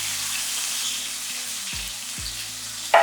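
Small shallots sautéing in oil, a continuous close sizzle with low hum underneath and a couple of soft thuds, no talking.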